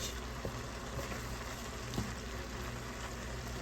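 Cabbage and sausage cooking in a pan, a steady low sizzle and frying hiss running evenly throughout, with a couple of faint knocks, close and unaccompanied by talk.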